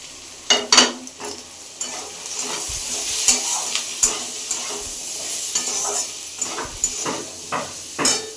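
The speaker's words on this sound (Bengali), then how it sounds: "এখন আমি এই প্রত্যেকটা মশলাগুলো এই আলু ভাজাটার মধ্যে দিয়ে দেব।" Cut potatoes and onion fry with added spices in a pan for an omelette curry, a loud steady sizzle broken by repeated scraping and knocking of a spoon stirring against the pan.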